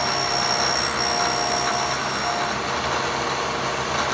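Steady machining noise from cutting down an overlong Floyd Rose guitar tremolo block, a continuous broadband whir and hiss that stays loud and even throughout with no talking.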